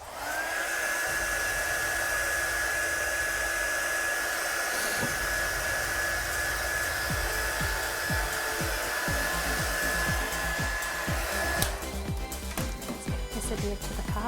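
A heat tool blows a steady, loud whine while drying a stamped card, running continuously before switching off near the end, with soft handling noises and a voice talking in the background.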